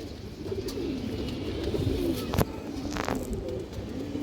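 Dakat pigeons coo in low, rolling murmurs throughout, with a few soft rustles and flutters nearby, fairly steady and close.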